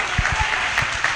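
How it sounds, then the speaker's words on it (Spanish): A crowd claps in a brief burst of applause, steady and fairly close, at a church sermon. "denle un aplauso a Jesús."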